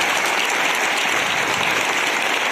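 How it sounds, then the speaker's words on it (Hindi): Strong applause for a young singer named Vaishnavi at an Independence Day celebration, a continuous wash of many hands clapping at a steady, fairly loud level. "एक बार जोरदार तालियां वैष्णवी के लिए।"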